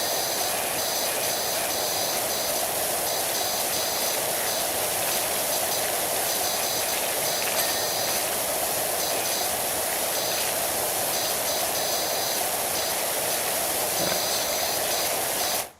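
Steady hissing spray of a pressure washer nozzle in Powerwash Simulator, cleaning a house's front dormer wall, continuous and loud throughout with no talking.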